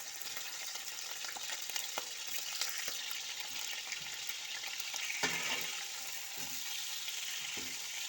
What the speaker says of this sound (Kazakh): Енді қазанымызға май құйып, астық қыздырып, етімізді салып қуырамыз